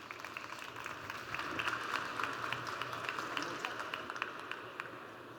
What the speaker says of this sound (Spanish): Recibamos a nuestros speakers con un fuerte aplauso.